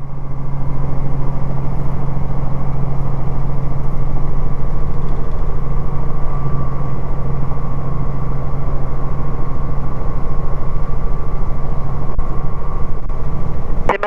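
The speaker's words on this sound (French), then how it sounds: "C'est magique de décoller comme ça." A loud, steady aircraft engine drones without a break through the takeoff roll, its low hum and constant rumble filling the cabin with no voices over it.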